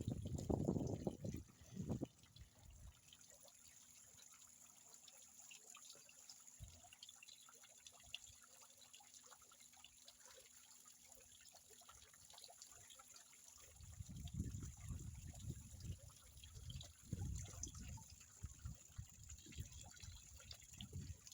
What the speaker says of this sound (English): I'll let you listen to the ripples of the water for a second.